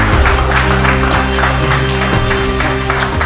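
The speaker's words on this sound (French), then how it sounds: "donc bravo messieurs, rien que pour ça, je vous applaudis" Applause for under-17 football players after a regional semi-final match, a dense burst of clapping from a nearby group that keeps up steadily the whole time, with no voices standing out.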